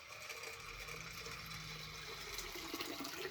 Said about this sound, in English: So water you got to put quite a bit.